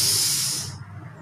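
A deep breath drawn in through the nose during a Japanese-style breathing exercise, heard as a close, airy hiss that fades after about half a second.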